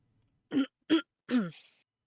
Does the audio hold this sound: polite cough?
yes